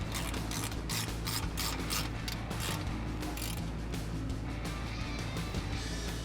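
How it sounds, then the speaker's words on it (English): A socket wrench ratchets on tough exhaust bolts of a 2011-2014 Mustang GT with an SR Performance axle-back exhaust, a steady close clicking and grinding mechanism that runs continuously with no talk. "I'm gonna need a socket for it, a socket wrench."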